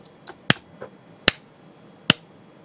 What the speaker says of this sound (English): I'm going to do this thing where I do the clap to get the sound thing.